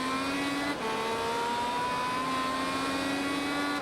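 A race car engine in Grid Autosport roars at high revs, a steady loud whine that briefly drops at a gear shift and then climbs smoothly again, alone without talk.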